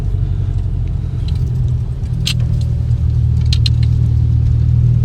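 A Volkswagen GTI engine idles steadily while warming up in cold weather, a constant low rumble heard from inside the car, with a few faint clinks and small rattles over it and no talking.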